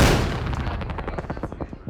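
An army tank gun fires during boot camp training, one loud blast at the start followed by a long rolling echo that decays over about two seconds.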